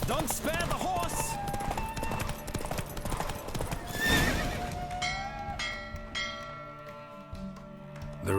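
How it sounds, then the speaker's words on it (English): A horse galloping during a race in The Witcher 3, with rhythmic clip-clopping hooves close by and a loud neigh, over in-game ambience and voices, ending in a settling whinny. "Don't spare the horse."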